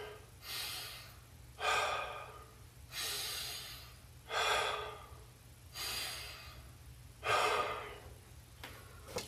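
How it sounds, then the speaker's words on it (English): Slow, deep breathing close to the microphone, with several long breaths in and out at an even, unhurried rhythm and no talking between them. "Take 3 deep breaths."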